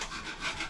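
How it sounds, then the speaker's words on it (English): Wet sanding with a two-sided sponge, rough side against a surface during a bathroom upgrade, giving a close, steady scrubbing rasp in a few back-and-forth strokes. "she's wet sanding it with that sponge that I told you about"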